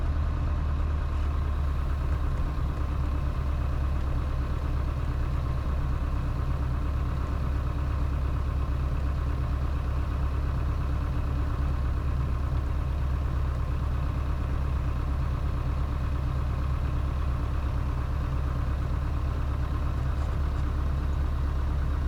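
A light aircraft's engine drones at full power during a rolling take-off, a loud, steady, unbroken low hum that holds for the whole stretch with no audible talk.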